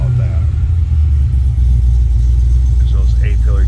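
Steady deep idle rumble from a 2006 Cadillac CTS-V sedan engine, loud and close, holding even throughout while someone talks faintly over it toward the end.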